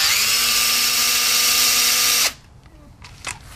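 A power driver spins out the 8 mm bolts on a Yamaha C3 scooter's variator cover, giving a loud, steady motor whine for about two seconds before cutting off, followed by quiet with a few faint clicks.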